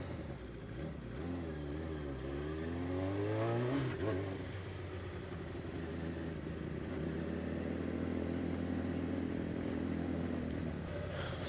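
An old Suzuki GSX 750 motorcycle engine revs and pulls away, rising in pitch, then settles into a steady drone amid heavy traffic noise on a very busy road.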